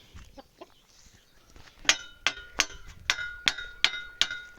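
Chickens and ducks on a farm cluck faintly at first, then a series of sharp, evenly spaced clicking knocks builds up nearby.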